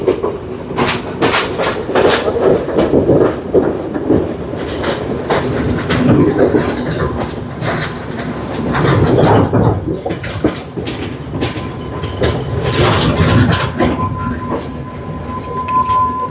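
A passenger train travelling from Jaffna toward Batticaloa rolls steadily along the rails. A loud, continuous rumble carries rhythmic clickety-clack and brief wheel squeals, with no talk over it.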